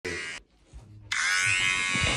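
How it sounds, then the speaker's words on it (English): An electric shaver sound from a phone app buzzes loudly and steadily, cuts out briefly, then buzzes again even louder, with only muffled movement in the gap. "I downloaded the shaver app and I'm going to use it a few times today"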